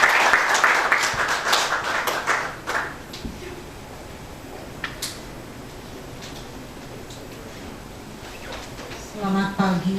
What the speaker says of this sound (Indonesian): Kami persilakan berikan tepuk tangan mereka